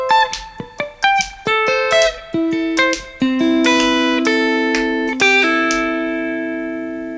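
Electric guitar plays a Chillhop riff from the tune "Cruisin" by Cloudchord x G Mills, descending clean picked notes high on the neck ending in a pull-off, with the last notes left ringing and fading; played alone, no talk.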